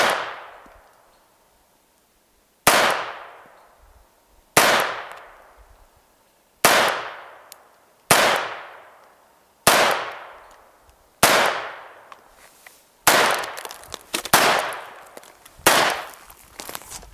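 A Ruger SR22 pistol fires shot after shot downrange at an outdoor range. Around ten sharp, loud reports come every second or two, each followed by a ringing echo that fades out.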